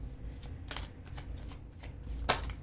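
Tarot cards being shuffled by hand, quick soft riffling flutters in several short bursts ending in a sharper snap, quiet and close, no talking.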